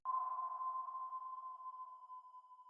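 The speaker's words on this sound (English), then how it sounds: "The sonar pulsed, its echo reverberating through the water" A single underwater sonar pulse sounds as a pure, steady tone that starts abruptly and holds for a few seconds, slowly thinning and fading as it rings out alone.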